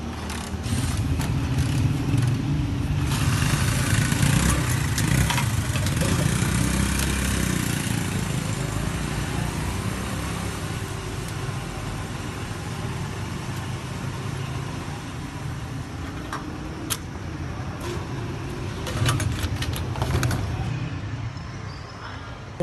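A motorbike engine runs steadily while riding to a shop in town, a continuous mid-pitched drone with traffic and street noise around it, rising slightly in the middle and carrying on without speech.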